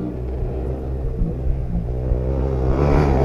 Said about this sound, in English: ovo je Kawasaki 450 ili 250